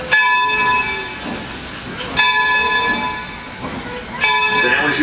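Steam engine 26 backs up on the rails at Steamtown in Scranton, PA. A close, steady rumble of wheels and machinery carries sustained whistle-like tones, with periodic clanks from the moving cars.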